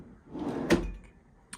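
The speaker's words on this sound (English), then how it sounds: "And then soft closed drawers" A soft-close drawer in the galley of a 2022 Beneteau Oceanis 40.1 sailboat slides shut with a muffled thump, then a faint second tap follows a moment later, heard close up in a quiet cabin.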